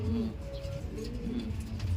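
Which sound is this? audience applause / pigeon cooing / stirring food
pigeon cooing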